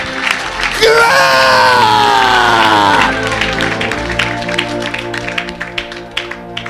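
A church congregation cheering and shouting loudly in unison, a swelling roar of voices that peaks and then breaks into scattered clapping and calls.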